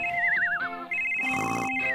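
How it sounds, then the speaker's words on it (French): A toy phone rings during a doll makeover play scene, giving a loud warbling electronic ringtone that repeats in two bursts with a short gap, fairly close and with no talking. "ton téléphone sonne."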